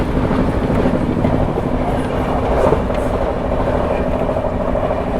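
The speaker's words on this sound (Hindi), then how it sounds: "अपनी ट्रेन फरीदाबाद स्टेशन को स्किप करने वाली है अपनी महाराष्ट्र संपर्क क्रांति" Maharashtra Sampark Kranti Express thundering through Faridabad station at about 130 km/h, a loud, steady roar of wheels and rushing coaches close by with no pauses.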